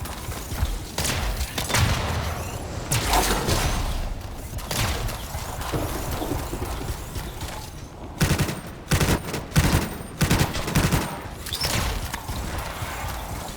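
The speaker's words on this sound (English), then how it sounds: "So that was a burst assault rifle, I guess." Rapid bursts of assault rifle fire in the video game Anthem crack out in short clusters amid loud combat noise, with heavier rattling volleys in the later seconds.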